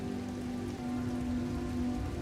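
Steady rain falls on a house, an even, unbroken hiss of drops, heard alone with a faint low hum beneath it.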